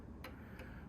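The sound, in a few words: 1930s Sessions mantel clock ticking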